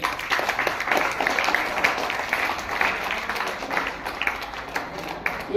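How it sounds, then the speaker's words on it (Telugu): An audience claps at a state-level school arts festival in Vijayawada, a dense patter of many hands at moderate distance, uneven and sustained, with faint voices underneath. "అవునా అన్నవాళ్ళు గట్టిగా చప్పట్లు కొట్టండి."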